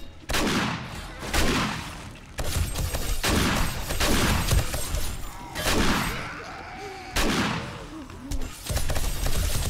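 Automatic turrets in the game 7 Days to Die fire in repeated rapid bursts, loud and close, with short pauses between volleys and the crack of impacts mixed in.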